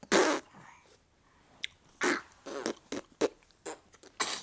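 A young child at home sneezes and snorts in a string of short, close bursts with brief quiet gaps between, fairly soft overall.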